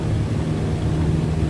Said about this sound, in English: we're going to start pulling her back, and we're off the ground